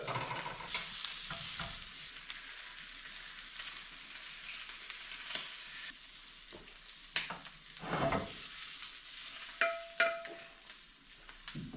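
Sausages frying in a pan, a steady faint sizzle with occasional stirring clatters and sharp pops, close and quiet, no talk.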